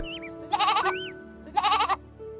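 A goat bleats twice, two loud, wavering calls about a second apart, with a faint higher cry and a low steady hum underneath.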